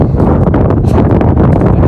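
Strong wind blowing outdoors by Sagtala lake batters the microphone in a loud, close, continuous low rumble with uneven gusts.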